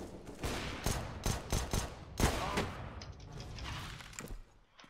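Rapid bursts of gunfire in the game Counter-Strike: Global Offensive, several sharp shots in quick succession, moderately loud, with no talk.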